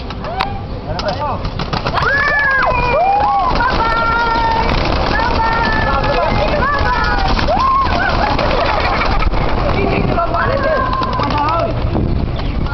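Birds chirp and call in a busy flurry amid wind noise and rustling, with people talking close by throughout.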